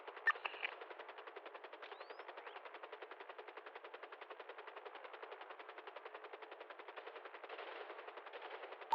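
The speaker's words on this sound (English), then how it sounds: "We're going to try and pop some shots towards him." Rapid automatic gunfire from a video game, aimed at a man standing on a crane, runs as an unbroken stream of evenly spaced shots for the whole stretch, with a brief burst of heavier shots near the start.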